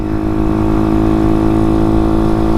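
Honda Grom motorcycle engine running steadily, a loud, close, even mid-pitched drone with a buzzing exhaust note and no break.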